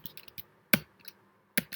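Typing on a computer keyboard, a few separate sharp keystrokes spread over under two seconds, close and fairly loud with quiet gaps between them.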